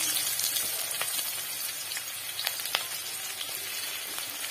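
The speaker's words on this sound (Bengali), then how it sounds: "পেঁয়াজটা ভালো করে ভেজে নেবো" Chopped onion frying in mustard oil with a dried red chilli and whole spices, a steady close sizzle with faint crackles and occasional sharp pops.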